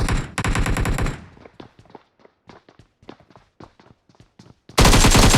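M16 fire in the mobile battle game BGMI comes in loud dense bursts at the start and end, with a quieter run of rapid single shots and footsteps between them.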